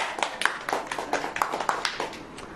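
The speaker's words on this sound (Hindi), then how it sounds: "अब ताली बजाओ।" A church congregation claps together at a sermon, with a steady run of fairly quick, moderately close hand claps that carries on throughout.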